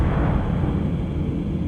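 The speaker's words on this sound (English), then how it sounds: "That explosion would have killed a troll on PCP, and you were fine." An explosion in the 2007 video game Shadowrun gives a dense, continuous low rumble with a roaring noisy wash that holds steady for under two seconds with no pause or voice.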